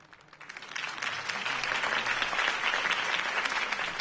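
A crowd in a Batman video game breaks into loud, sustained applause that swells quickly and holds steady, with faint cheering mixed in.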